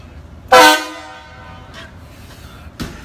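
A single loud horn blast, likely a train or air horn, sounds close for about a quarter second. A fainter, softer toot follows later, and a final sharp burst comes at the very end, with quiet outdoor background between them.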